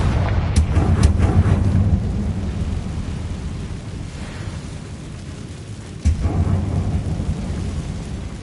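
A Confringo fire spell blast from Hogwarts Legacy: a sustained rumbling roar with a sharp burst near the start and another sudden impact about six seconds in, no talk.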